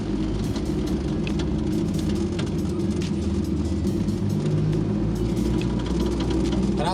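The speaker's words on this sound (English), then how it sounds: "as you can hear, everything rattles and shakes." Old car idling in a parking lot, a steady close low rumble with constant rattling and clattering from loose parts shaking over it; no talk.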